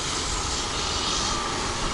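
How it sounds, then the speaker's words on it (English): A tractor drives home through farmland ahead of rain, heard as a steady, loud, broadband engine and road rumble with no speech. "As this tractor's trying to get home before it rains on him."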